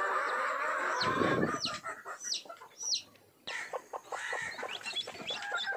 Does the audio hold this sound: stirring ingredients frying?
no